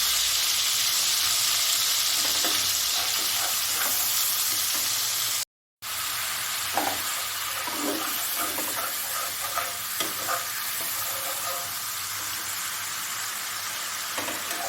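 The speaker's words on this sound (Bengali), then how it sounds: "মশলাটা একটু ভাজা ভাজা হয়ে এসেছে" Green chilli paste, cumin and turmeric fry in a pan, a continuous close sizzle with soft stirring scrapes and a short dropout midway.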